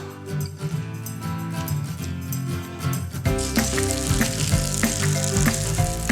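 Quinoa pancakes fry in olive oil in a hot pan, a soft crackle that swells into a loud, full sizzle halfway through, with music playing underneath.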